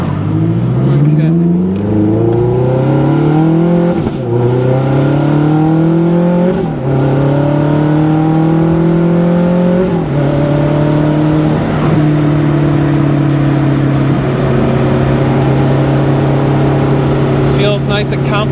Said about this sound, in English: Got nice pops. Downshifts are good, nice and tight.